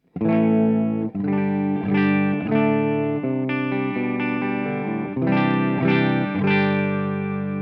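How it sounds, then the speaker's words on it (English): Clean electric guitar chords ring out steadily through the Amp 1 clean sound of a NUX MG-400 multi-effects unit, each strum sustained with a wash of reverb tail, played alone without voices. "this is how the clean sound of the Amp 1 sounds at the moment"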